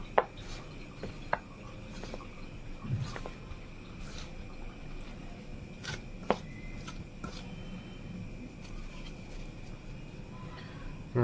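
Cauliflower pakora batter with dry chilli powder is stirred in a bowl, giving soft, irregular scraping and squishing sounds with occasional sharp clinks of the utensil against the bowl, fairly quiet and close.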